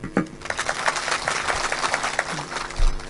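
An audience at a kirtan claps together in a dense, fairly loud burst that carries on steadily for a few seconds, with a faint voice underneath.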